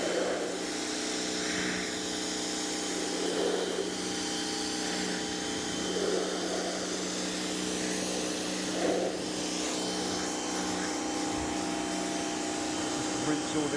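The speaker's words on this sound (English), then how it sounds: "the push of the pressure washer is doing" A pressure washer sprays steadily through a heavy-soiling prewash, making a continuous close hiss and rushing drone with a faint motor hum beneath, while someone talks over it.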